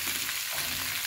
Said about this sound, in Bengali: একটু ভাজা ভাজা হলে সয়ানা গাজগুলো দিয়ে ভেজে নেব